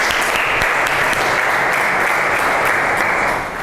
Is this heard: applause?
yes